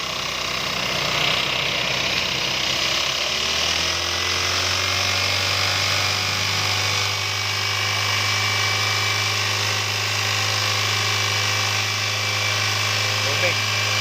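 A Toyota Avanza with a 3SZ engine that has a knocking fault starts up and settles into a loud, steady, close idle with a low drone, while a voice talks over it.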